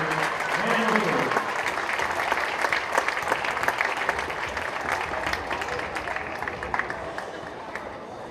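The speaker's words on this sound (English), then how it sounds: "a round of applause for our senior band and senior cheerleaders and leaders." Gym crowd at a Rochester high school boys basketball game against Triton applauds the senior band and cheerleaders, a long, steady wash of clapping and scattered cheers that slowly tapers, with a voice speaking briefly early on.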